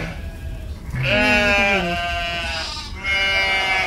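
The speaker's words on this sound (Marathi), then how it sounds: "काय आहे रस्त्यावर? बकऱ्या, मेंढ्या थोडस" Sheep and goats on a road bleating loudly and close, a series of several drawn-out wavering calls, one after another with brief gaps between them.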